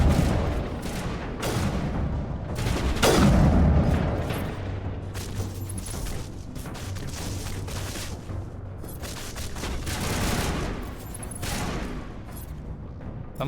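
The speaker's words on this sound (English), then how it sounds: "this is a good time to use the assault rifle" Assault rifle gunfire rattles through a Mass Effect firefight in rapid, uneven bursts, mixed with booming impacts and battle noise that stay loud and dense throughout.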